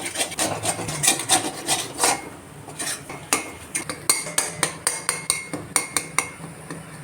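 Metal spatula scraping and stirring food in an iron pan while dry-roasting, a loud close run of rasping strokes that settles into a steady rhythmic series of sharp scrapes.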